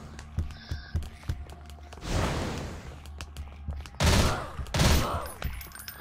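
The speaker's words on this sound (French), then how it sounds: "Ah, il y a même un ricochet." Gunfire in the VR game Bullet Sorrow, with a bullet ricochet: a run of sharp shot clicks, then loud, broad blasts around two, four and five seconds, each bursting up and fading, close and alone.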